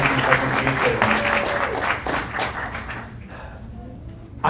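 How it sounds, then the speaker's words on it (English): An audience claps after a presentation, giving dense steady applause from many hands nearby that thins out and fades toward the end. "keep that clapping going for this amazing work and Holly's amazing presentation."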